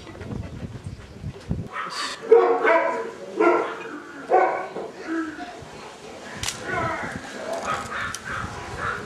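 Several dogs bark at a house in Patitiri on Alonissos, Greece, with a series of sharp barks at moderate distance over outdoor background noise and voices.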